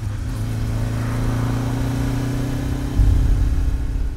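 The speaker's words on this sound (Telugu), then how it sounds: "ఇంతలో అటుగా మోటార్ సైకిల్ శబ్దం వినిపించింది" A motorcycle engine runs steadily close by, a loud continuous drone that swells slightly near the end as if revving or drawing nearer.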